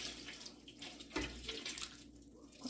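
Water poured into a cooking pot of eggs in a Liberian home kitchen, a faint steady splashing pour with a soft thud partway through, heard alone without speech.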